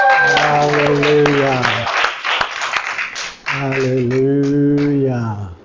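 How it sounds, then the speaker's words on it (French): Hands clap in applause across a church congregation during a French-language sermon. The burst of claps sits between loud, drawn-out sung voices. "Donnez une bonne main d'applaudissement à Jésus."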